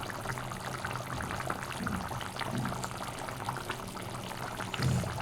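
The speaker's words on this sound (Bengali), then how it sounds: "দই ফাটিয়ে রেখেছিলাম একটু দই দিয়ে দিলাম" Yogurt poured into a simmering Bengali fish curry, a steady close liquid pour and bubbling with a few soft splashes, no talk.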